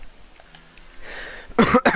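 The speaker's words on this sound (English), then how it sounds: "Apologies for the cough" A single harsh cough bursts out close and loud at the end, after a stretch of faint room noise.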